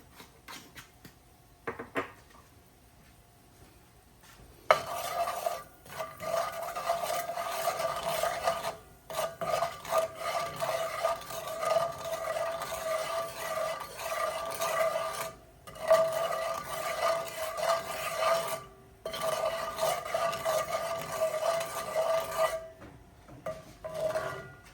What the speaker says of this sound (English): so I'm going to burn my curry, a little bit of oil. You don't need a lot of oil for this. I'll just add some of my curry in.